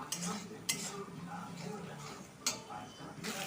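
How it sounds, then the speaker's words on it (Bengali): A utensil stirs fried potatoes with spices in a pan, scraping steadily with a few sharp clinks against the metal and a faint sizzle underneath. "ভেজে রাখা আলুগুলো দিয়ে আলুটাকে ভালো করে মশলার সাথে চার পাঁচ মিনিট কষিয়ে নেব"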